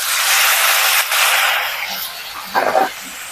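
Ground spice paste for an egg curry hits hot oil with fried onions, giving a loud, steady sizzle that slowly fades, then a short clatter near the end.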